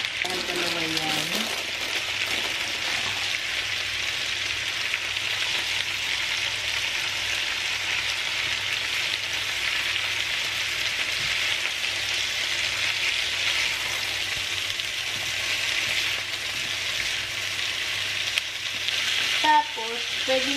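Bean sprouts frying in a hot pan, a loud steady sizzle with stirring throughout, a few faint voices in the background.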